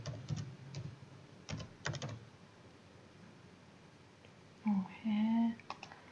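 Scattered bursts of keystrokes on a computer keyboard while adding an element to a web page, quiet and close, with long pauses and a short faint voice near the end.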